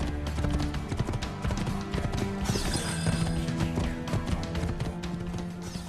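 Horse hooves clip-clopping at a steady trot while riding through a crowded town in Assassin's Creed 2, loud and continuous over dense game ambience and crowd murmur.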